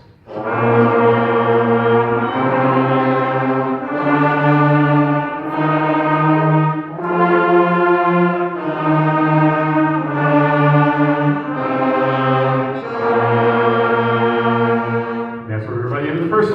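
A beginning band's wind instruments play their first five notes, a slow sequence of long sustained notes, each held for about two seconds, loud and steady.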